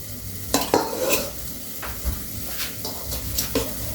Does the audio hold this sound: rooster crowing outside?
no